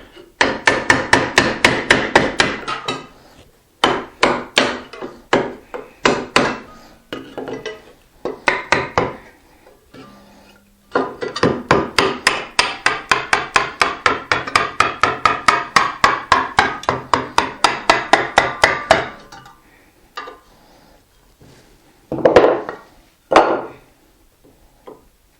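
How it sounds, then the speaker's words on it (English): Steady, rapid runs of light hammer taps knock the metal back off a bent backsaw. Close, sharp strikes come in long rhythmic bursts with short pauses between them. "tapping with a hammer"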